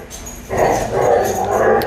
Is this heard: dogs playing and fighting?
yes